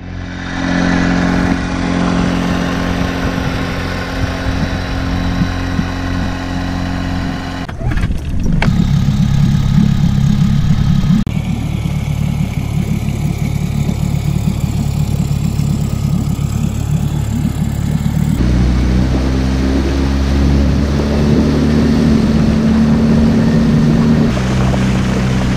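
The small outboard motor of a TRUEKIT Discovery 330 boat on Ullswater runs steadily and loudly throughout, its droning tone shifting pitch a few times as the throttle changes.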